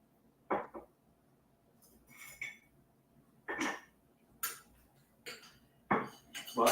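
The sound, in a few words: dishes and cutlery while making coffee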